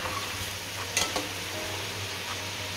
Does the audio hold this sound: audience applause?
no